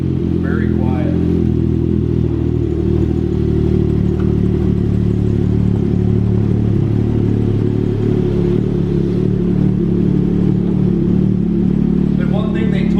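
Ski-Doo XRS 900 ACE Turbo Renegade 2021 four-stroke turbo snowmobile engine idling close by, a steady low, even hum with faint clatter that holds constant throughout.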